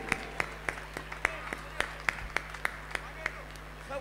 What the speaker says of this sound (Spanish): Un aplauso para Benja, con 9 añitos